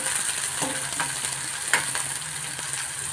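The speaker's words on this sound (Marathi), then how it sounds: "एक कांदा घेतलाय, कढीपत्ता टाकलाय, कांदा टाकलाय." Onion and curry leaves fry in a pan with a constant bright sizzle, broken by occasional spatula scrapes and light knocks against the pan, no one speaking.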